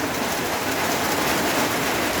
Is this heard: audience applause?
no